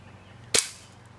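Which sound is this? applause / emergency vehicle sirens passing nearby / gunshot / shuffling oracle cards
gunshot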